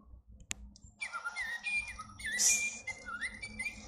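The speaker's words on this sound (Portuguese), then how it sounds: "esse é o passarinho Little Live" A Little Live Pets toy bird gives a quiet series of thin, whistly electronic chirps after a sharp click, rising and falling in short bursts against a hushed room.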